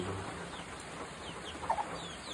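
A hen clucking faintly a few times in an outdoor setting, short soft clucks under steady background noise, with one slightly louder pair near the end.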